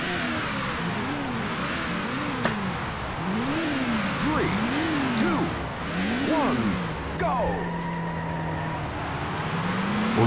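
Race car engine in the PC racing game Need for Speed High Stakes, revving and shifting repeatedly with rising and falling pitch, loud and continuous with a speaking voice over it at times.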